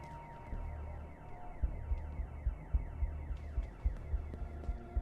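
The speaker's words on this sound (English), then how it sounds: "Steve, there's been an alarm set off." An alarm blares inside a building in The Occupation video game, a repeating electronic wail cycling in regular pulses with a rhythmic low thump beneath, loud and unbroken with no speech.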